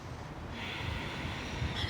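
A slow, deep breath drawn in during a beginner core-strengthening yoga session on a mat, one long, soft, steady inhale that swells after a moment and stays close and faint.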